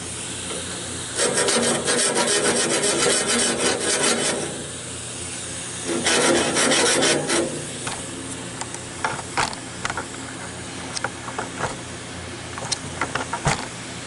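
A file rasps along the teeth of a sawmill blade on a Wood-Mizer LT15 band sawmill, sharpening it before white ash is cut. Two long runs of steady scraping strokes are followed by scattered single clicks and scrapes, up close.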